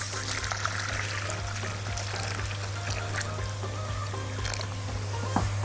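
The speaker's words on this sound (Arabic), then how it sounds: "والحلة دي هنحط فيها مية" Water is poured from above into an empty cooking pot set on the stove, a continuous splashing pour that stays steady for several seconds with no voices.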